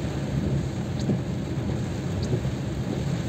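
Heavy February rain pours steadily on Jalan Wahid Hasyim in Depok, Sleman, a broad continuous hiss with low rumbling, likely distant thunder, throughout and no voices.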